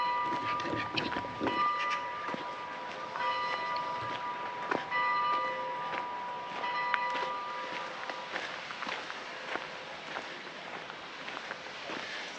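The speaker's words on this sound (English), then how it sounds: "Dinner bells are ringing" Church bells ring at noon in central Athens, Greece, with several clear metallic strikes and sustained tones over the first half, then fading amid busy street noise and footsteps.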